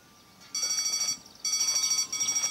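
An alarm blares in the game Deponia, two bursts of rapid, pulsing electronic beeping with a short gap between them, loud and without voices.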